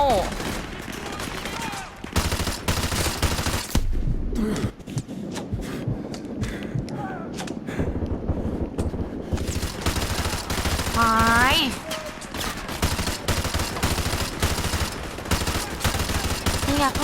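Gunfire in the Call of Duty: Modern Warfare 2 campaign on PS4 in hard mode rattles in dense machine-gun bursts and single shots over a low rumble, loud and continuous, with talk mixed in.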